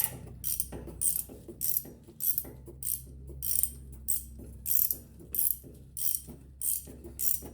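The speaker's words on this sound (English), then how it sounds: "Alright, so I'm just loosening it up here with the ratchet." A ratchet loosens a ball joint nut on a 2000 Dodge Ram, about a dozen evenly spaced bursts of crisp clicking, close and clear with short pauses between strokes and no talking.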